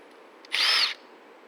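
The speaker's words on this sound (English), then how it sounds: "Use a power ratchet to get them in nice and easy." A power ratchet drives a fastener into a wooden bracket with one short, whirring burst of about half a second, heard close by against a quiet background.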